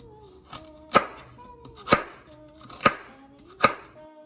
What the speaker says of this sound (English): we're going to go ahead and just cut these into chunks so they're easier to throw into the juicer